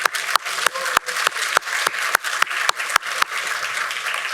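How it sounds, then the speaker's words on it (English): A conference audience applauds at a panel discussion, with sharp, separate claps at a steady rhythm, fairly close and loud, rather than a dense roar of many hands. "have we given Vina Howard a round of applause yet?"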